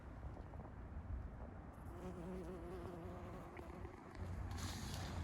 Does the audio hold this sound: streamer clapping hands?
no